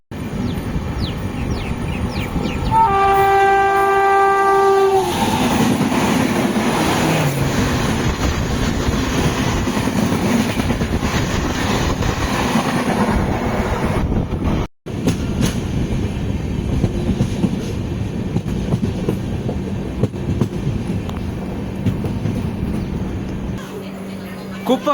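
A diesel-hauled passenger express rolls past, heard from close by: a horn blast sounds early, followed by a steady rumble and rhythmic wheel clatter that continues for the whole stretch, with a brief dropout midway.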